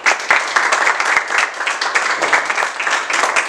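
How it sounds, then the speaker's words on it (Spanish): An audience in a Mexican university panel hall about the UNAM strike claps loudly and continuously, a dense, even wash of many hands with a few sharper individual claps standing out. "Por favor, un fuerte aplauso."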